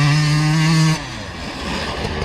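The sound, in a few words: motorcycle riding on sand track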